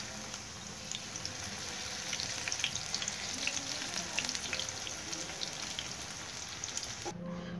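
Spinach pakoras fry in hot oil, a soft continuous bubbling crackle with scattered pops that carries evenly throughout and then cuts off abruptly near the end.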